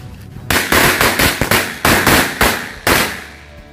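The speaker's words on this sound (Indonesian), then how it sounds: "ini kita nyalakan mercon korek yang warna biru ya" Blue match-type firecrackers burst in a rapid irregular string of about eight sharp, loud cracks close by, each with a short ringing tail, ending after a final bang with no talking.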